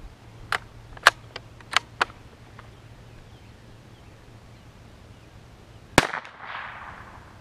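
Sharp .22 rifle shots from a Savage Mark II FV-SR fired at squirrels outdoors: four spaced cracks in the first two seconds, then a louder single shot near six seconds with a brief rustle after, over quiet background.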